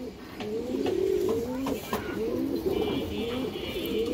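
A silver female pigeon coos close by in a repeated series of soft, low rolling calls that rise and fall across the whole stretch, with faint background noise.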